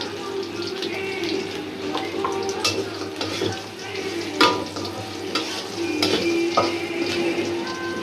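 Steady sizzling of potatoes frying crisp in a pan, with scraping and clinks of a utensil stirring at irregular moments throughout.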